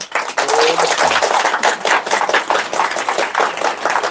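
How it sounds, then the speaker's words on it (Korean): Audience applause at a live political party event in a members' hall, steady dense clapping from many hands that fills the room, loud and sustained throughout with no voices on top. "훌륭한 청중을 위해서 박수 한번."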